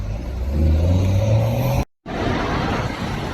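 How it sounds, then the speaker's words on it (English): A Porsche Turbo S passes on a Zurich street, a loud close engine drone with a low rising tone, cut by a brief dropout before the road noise returns. "I think it might be a Turbo S."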